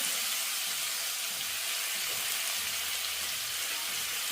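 Beetroot sautéing in a pan, a steady, even sizzling hiss throughout with no talk.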